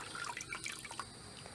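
Muddy water draining out of a dirt mixture during an outdoor bench and roof flashing build, heard as a soft, steady trickle with scattered drips, close and faint, with no talking.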